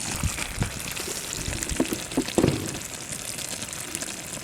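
A tindora masala curry gravy simmers in a pan, with a steady bubbling, sputtering wash and a few sharper pops and spits, close and moderately loud throughout.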